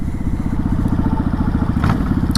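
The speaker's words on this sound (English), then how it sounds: "I also put on some Vance & Hines exhausts that I think sound beautiful." A motorcycle fitted with Vance & Hines aftermarket exhausts idles with a deep, rapid, throaty exhaust pulse, loud and close, with a brief rev swelling near the end.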